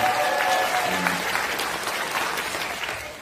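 Audience at a political party debate forum applauds, a broad, full clap of many hands, loud and close at first, then gradually tapering over a few seconds.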